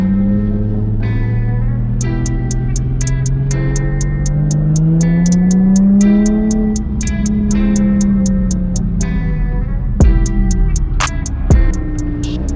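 Drift cars run in tandem, with engine and tire noise sweeping up and down in long rising and falling tones. Sharp rhythmic ticking repeats over it, and two hard knocks come near the end.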